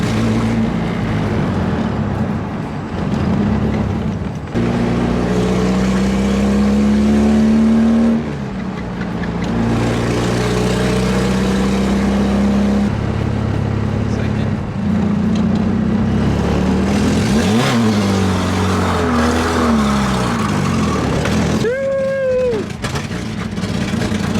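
A Nissan 240SX engine drones steadily and loudly in fourth gear, its pitch climbing and settling as the car drives along, with a brief rising rev near the end.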